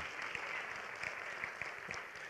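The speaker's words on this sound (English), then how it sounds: "How about a round of applause for Akhil Amar and his Constitution?" Audience applause at a lecture honoring constitutional scholar Akhil Amar, a steady wash of many hands clapping at moderate, even volume, with a faint voice briefly audible beneath it.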